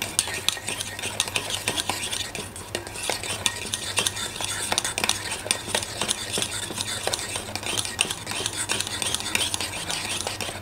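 Homemade hair milk being stirred in a pot just taken off the heat, continuous rapid scraping and clinking of a utensil against the pot, close and steady with faint sizzle underneath, no talking.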